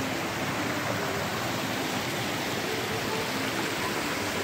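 A creek's two branches merge at a confluence, producing a continuous, even wash of flowing water that stays steady and fairly loud throughout, with no voices.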